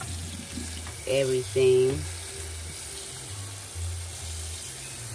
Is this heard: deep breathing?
no